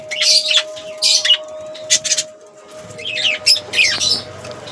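Pigeons in a home loft give repeated bursts of high chirping and squawking calls, some overlapping, over a steady low hum.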